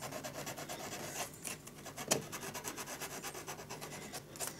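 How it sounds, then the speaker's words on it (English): Sandpaper rubbed over a wooden piece to round off its contoured edges, a steady series of close, rasping back-and-forth strokes with one sharper scrape partway through. "a little bit of sandpaper"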